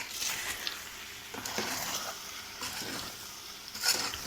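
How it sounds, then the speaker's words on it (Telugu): Masala vegetable kurma is stirred in a pan, giving soft, quiet scraping strokes and faint sizzling that come in uneven bursts, with no voices. "ఇప్పుడు అన్నీ మిక్స్ చేసుకుందాము."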